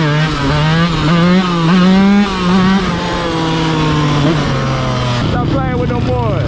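A dirt bike engine runs steadily while riding laps around a dirt lot, a loud continuous drone rising and falling in pitch as the throttle shifts, with people talking and calling out over it.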